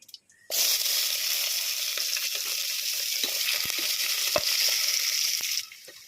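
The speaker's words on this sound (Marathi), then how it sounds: "आपण आता यामध्ये लसूण, अद्रक आणि मिरची ठेचून घेतलेली आहे ते टाकून घेणार आहोत" Crushed garlic, ginger and green chili hit hot oil in a pan for biryani, setting off a loud, steady sizzle that starts abruptly, holds evenly for about five seconds, then cuts off.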